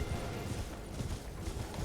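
Horse hooves galloping in the Elden Ring video game, a fast, steady clip-clop rhythm that sits fairly faint under a broad rumble of game ambience.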